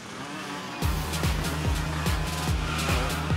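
Go-karts race in an animated LEGO Friends cartoon, with a steady engine drone that jumps in at once, then rises into a series of rhythmic revving sweeps, loud and close, without talking.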